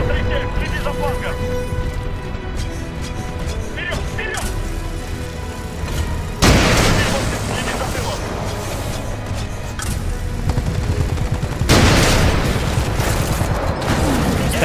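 Weapon fire in Titanfall 2 combat, loud dense bursts of heavy shots and crashing impacts, with two big booming blasts standing out amid a continuous roar of battle.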